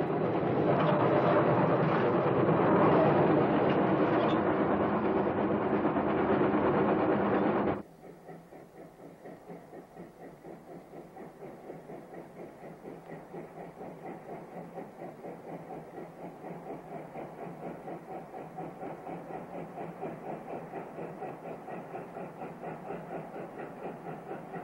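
Steam locomotive climbing a slope with sand spread on the rails to stop wheel slip: a loud roaring burst, then a quieter, steady rhythmic chuffing that continues alone.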